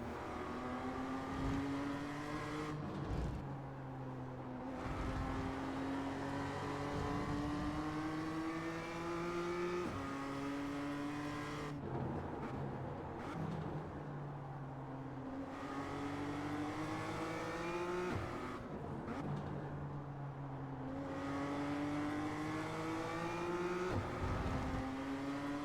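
A BMW race car in the iRacing sim racing game revs in repeated cycles, engine pitch climbing through each gear then dropping sharply at upshifts and lifts, loud and steady for the whole stretch.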